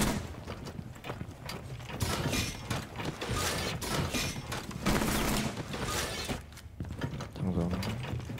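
A weapon being reloaded in a video game, a busy run of mechanical clicks and metallic clatter layered over dense game noise and music.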